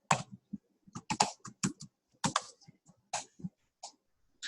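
Fingers type on a computer keyboard in quick, irregular bursts of crisp clicks with short pauses between them, close and clear, with no voices.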